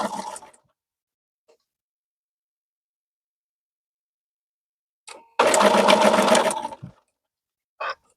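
A sewing machine stitching a quilt seam runs in short bursts: a brief whir, a long pause of silence, then a steady run of about a second and a half and a quick final tap.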